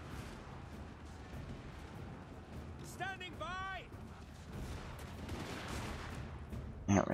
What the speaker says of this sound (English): we're enjoying a bit of gunfire there